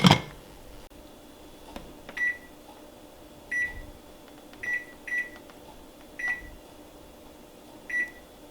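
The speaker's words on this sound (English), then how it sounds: "our timer beeped after 10 minutes" Kitchen timer sounding short electronic beeps in a home kitchen while cooking blended green soup, six or so single beeps spaced about a second apart after a brief clatter at the start, moderately close over quiet room noise.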